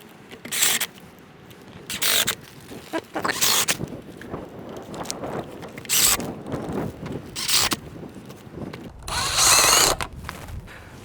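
A power drill drives small pointed screws into the pivot ring of a sun tunnel installation in several short bursts of high whirring, separated by quieter handling, scraping and clicks, close by with no talk.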